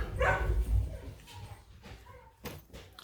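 Dogs bark indoors at home. Loud, deep barks come at the start, then they fade into scattered yips, whimpers and a door-like knock, heard fairly close with no speech.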